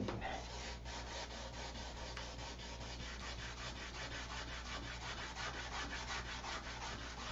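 Rapid back-and-forth strokes of hand sanding on wood, a steady scratchy rasp repeating close up with no voices.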